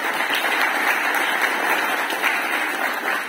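Loud, dense applause from an audience at a beekeepers' gathering in Morona Santiago, Ecuador, honoring a beekeepers' association, a close continuous wash of clapping with no gaps.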